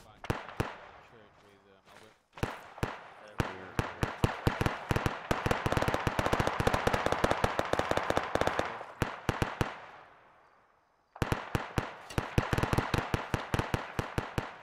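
Rapid bursts of automatic gunfire in the military shooter Arma 3, dense volleys of sharp shots that drop out briefly around ten seconds and then resume, loud and close. No talk is heard over them.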